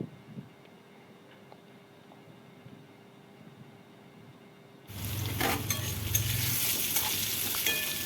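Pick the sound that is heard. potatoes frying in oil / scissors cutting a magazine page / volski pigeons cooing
potatoes frying in oil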